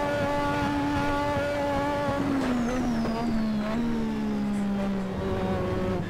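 A Lotus 98T Formula 1 engine in Assetto Corsa at Spa-Francorchamps holds a loud, steady high-pitched drone, its pitch dipping slightly and wavering as the throttle changes, no voices.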